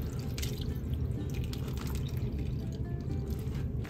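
Warm water trickles and drips into grated coconut ahead of squeezing out the milk for laing, a steady, fairly quiet wet patter and splash that continues without pause and without voices.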